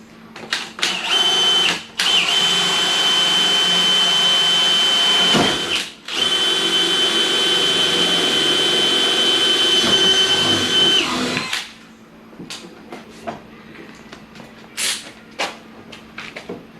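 Power drill boring holes into a Dodge Viper GTS for a rear diffuser install, a loud sustained whine running about ten seconds after a brief first burst, then stopping into quieter shop clatter.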